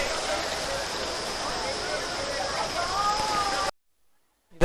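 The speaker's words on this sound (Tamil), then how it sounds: "இந்த மாதிரி குட்டி குட்டியாக நிறைய வாட்டர் ஃபால்ஸ் வந்து இங்கே பார்க்க முடியுது" Shallow water trickling down small limestone waterfalls at Sahastradhara near Dehradun, low in flow, a steady close splashing hiss that stops abruptly near the end, followed by silence.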